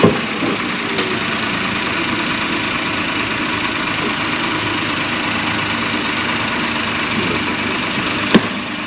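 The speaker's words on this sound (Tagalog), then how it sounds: "So yan ang makina ng Toyota Wigo." A Toyota Wigo with a Daihatsu engine idling under the open hood, a steady, even hum heard up close with a single sharp click near the end.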